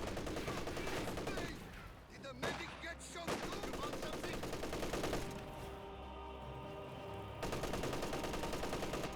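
MG34 machine gun bursts in the strategy game Company of Heroes 2, rapid sustained automatic fire with brief gaps, layered over other battle noise and faint commentary.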